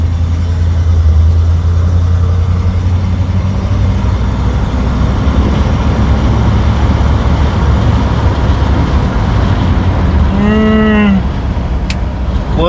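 A 1955 Buick Special drives along the road with a loud, steady low rumble of engine and road noise heard from inside the car, and a short tonal wail rises near the end.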